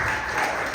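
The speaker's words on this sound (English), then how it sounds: "Round of applause" Applause from the audience at a Dr. Huey P. Newton Foundation event welcomes Michael D. McCarty, a brief steady wash of clapping with a slight bump near the end.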